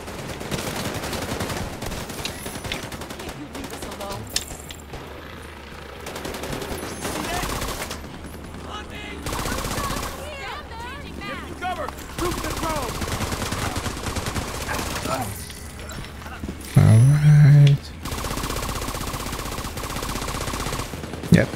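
Gunfire from the video game The Division 2 runs almost continuously as bursts of automatic fire and sniper shots over a busy mix of game sound and background music, with a person talking along throughout.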